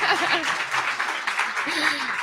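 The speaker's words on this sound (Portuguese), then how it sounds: "Aí, aplauda o Senhor." A church congregation applauds the Lord, with steady mid-level clapping throughout while voices speak and call out over it.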